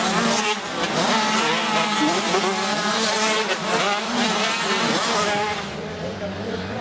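Race cars lap a track, their engines making a loud, continuous roar for the whole stretch, with rising and falling whines as cars pass close by.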